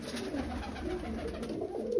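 Pigeons kept in a loft coo close by, low soft rolling calls repeating steadily under a faint background hiss.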